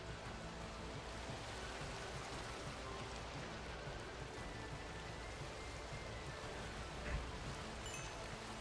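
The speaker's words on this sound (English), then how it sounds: "Stop it, rain." Steady rain pours down in a video game set in Middle-earth, a dense, even hiss of falling drops holding constant throughout, with no talking over it.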